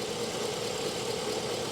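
A GMC Sierra engine idling with cylinders 7 and 5 misfiring gives a rough, continuous low rumble with a knocking texture, steady and fairly close, with no voices during this short stretch.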